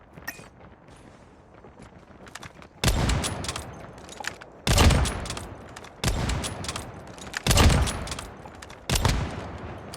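Bursts of video game gunfire from a weapon in a Gundam collaboration shooter, five loud close volleys a second or two apart, each a rapid stream of shots cut off abruptly, with quieter game ambience between them.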